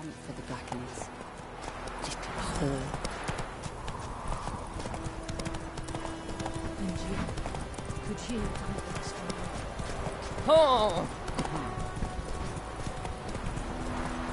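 Roach, a horse in The Witcher 3, trots with rhythmic clip-clopping hooves throughout, close and steady, with a brief whinny-like burst partway through and someone talking over the hoofbeats.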